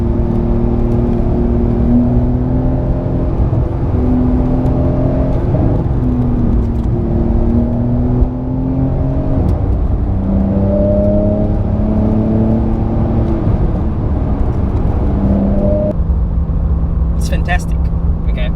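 A new Porsche 911 engine hums steadily from inside the cabin while being driven, with gear-like pitch shifts under continuous talking.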